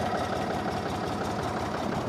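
A Ford 3000 tractor engine idles with a steady low rumble and a dense, even chugging pulse, loud and close, with no talking.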